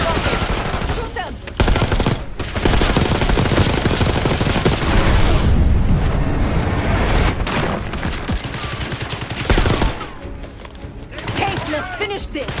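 Loud sustained gunfire from the Call of Duty: Black Ops 6 campaign: dense automatic bursts fill most of the stretch, with a few brief lulls, then sparser shots near the end.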